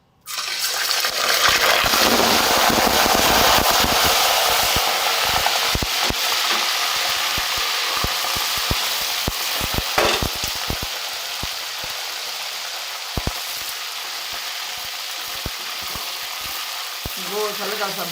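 Meat dropped into six spoons of hot oil for chicken and moong dal salan, sizzling loudly and steadily with bursts of crackling and spattering throughout, close and continuous.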